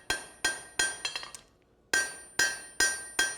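Hammer blows on hot steel at a blacksmithing demonstration, knocking scale off and smoothing hammer marks: sharp ringing strikes in a steady rhythm, a short burst of lighter taps, a brief pause, then more evenly spaced loud blows.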